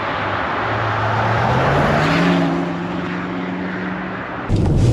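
Range Rover Sport SV fitted with a QuickSilver sport exhaust, valve closed, cruising in normal mode: a steady, subdued drone from inside the car with a low engine hum and road noise, then a brief shift in tone at the end.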